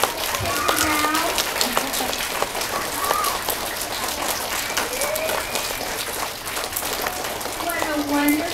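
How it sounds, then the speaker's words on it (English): An audience gives a big round of applause, a dense, steady wash of clapping from many hands that carries on for several seconds, with voices and cheering heard through it. "a huge round of applause"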